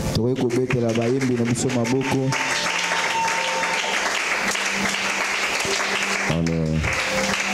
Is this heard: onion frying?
no